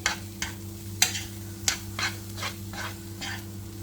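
Spices and turmeric frying in a pan for red lentil soup, with a soft sizzle under repeated scraping and stirring strokes of a utensil against the pan, plus a steady low hum.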